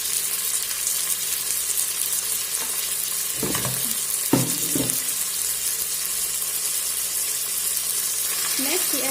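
Chicken fries in a pressure cooker pot with a loud, continuous sizzle, close by, broken by a few scrapes and knocks of stirring midway.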